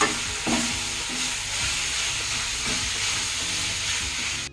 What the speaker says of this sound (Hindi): ये हमने 2 मिनट तक इसको प्याज को फ्राई होने दिया है।